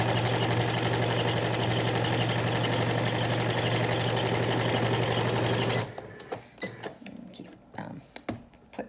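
A sewing machine runs continuously around the inside of a pleated cloth face mask, a close, steady, rapid whirr that stops near six seconds, followed by scattered clicks and fabric handling.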